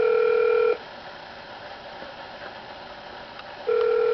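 Telephone line tones on a call to a fraud-reporting line: a steady tone sounds for under a second, then stops, leaving a quiet line with faint clicks, and the tone returns near the end.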